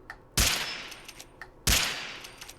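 Two loud, sharp shots from a lever-action BB gun in Fallout 4, spaced a little over a second apart, each with a bright crack and a short decaying tail, heard alone.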